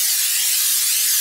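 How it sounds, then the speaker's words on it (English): Pam non-stick cooking spray hisses onto the bottom of a pan in one steady, loud, close burst that stops abruptly. "I'm just gonna spray some Pam non-stick spray on the bottom"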